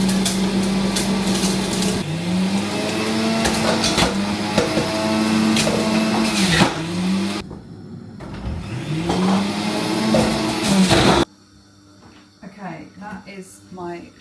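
Loud juicer motor whirring steadily at home during meal prep, with slight pitch dips as produce is pushed through, cutting off abruptly near the end and leaving quieter background sounds.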